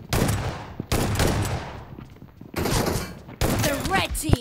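Shotgun blasts from the BGMI battle royale game: four heavy, booming shots spaced about a second apart, each with a fading tail, while a voice talks over the gunfire.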